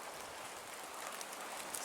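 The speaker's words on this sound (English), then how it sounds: "But it's raining right now. Just a light drizzle, but it's raining" Light drizzle falling outdoors on a cold day near freezing makes a steady, soft, even hiss with no distinct drops and no voices.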